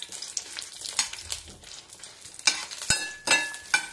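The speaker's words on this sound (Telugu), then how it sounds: "ఫస్ట్ ఎండుమిర్చి వేపుకుందాం నూనెలో." Dried red chillies frying in oil in a pan, with irregular crackles and sharp stirring scrapes over a soft sizzling bed, close and moderately loud.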